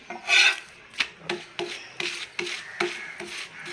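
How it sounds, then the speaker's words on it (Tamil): Chapati dough is rolled out into a thin round, with a series of rhythmic rubbing, scraping strokes of a rolling pin on a board, roughly one every half second, close and clear. "ரொம்ப தடியாக இல்லாமல் சின்னதாக உருண்டை எடுத்துக்கிட்டு மெதுவாக தேய்ச்சி"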